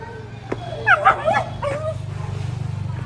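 A tied-up dog gives a short burst of sharp, high yips and barks close by, then whines, over a steady low mechanical hum.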